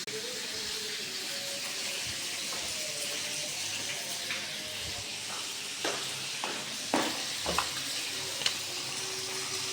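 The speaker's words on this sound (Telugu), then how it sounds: "అయితే తోటకూర వేపుకుంటున్నాను" Amaranth leaves frying in a pan hiss with a steady, broad sizzle, close and continuous, broken by a few louder crackles and stirring scrapes near the end.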